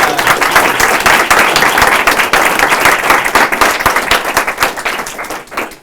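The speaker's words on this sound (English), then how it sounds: "let's give another round of applause" A seminar audience gives a round of applause, a dense burst of clapping from a room of people that starts loud and gradually thins and fades out over several seconds.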